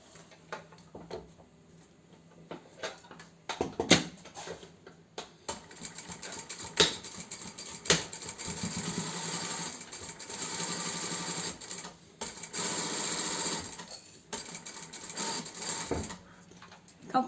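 A sewing machine stitches a second seam along a zipped fabric pouch, running in close, continuous mechanical bursts with brief stops and clicks between runs, and no speech.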